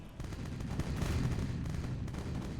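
Cannon fire from a seaside fort pounds at a sailing ship in the pirate game Age of Pirates, a dense continuous roar of booming shots and rumbling impacts with no pause.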